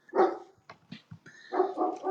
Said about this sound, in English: Teddy, Spanish Mastins. We like barking